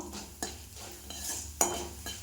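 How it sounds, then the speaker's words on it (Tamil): Urad dal and chana dal roasting in a pan over medium heat, with soft continuous scraping and stirring of dry lentils, a few sharper spoon clicks against the metal, and a faint sizzle underneath. "உளுத்தம் பருப்பு, 1 ஸ்பூன் கடலைப்பருப்பு இது சேர்த்து இது நல்லா பொன்னிறமாக வறுத்துக்கலாம்."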